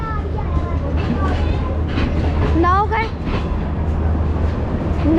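A train moves through Golra railway station with a steady, loud rumble and rail clatter, with people talking over the noise.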